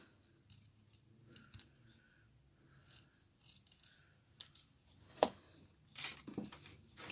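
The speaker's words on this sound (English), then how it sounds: "I'm going to cut this as close to the edge as I can." Scissors cut paper for butterfly antennas, giving a few quiet, close snips spaced irregularly over soft handling noise.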